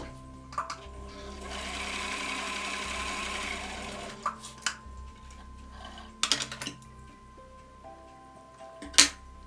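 A sewing machine runs in a steady stretch of stitching on a Covid-19 face mask, with short pauses and scattered clicks and taps from the needle being repositioned and the fabric turned by hand.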